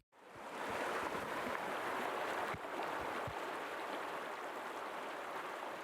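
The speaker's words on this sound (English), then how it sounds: "the Ovens River, to which you are now listening" The Ovens River flowing, a steady broadband rush of moving water heard close and continuous, with a few faint low knocks underneath and no voices.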